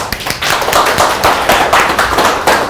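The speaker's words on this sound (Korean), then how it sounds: "자, 이쯤 되면 우리가 박수를 쳐야 되는 거니까 박수!" Clapping in a lecture hall after a poem is recited during a memory technique class, sharp hand claps in a fairly loud irregular burst, close and without talk.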